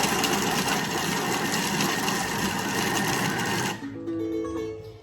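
A food processor running at speed 7 minces chicken with a loud, steady motor whir for about four seconds, then cuts out and winds down.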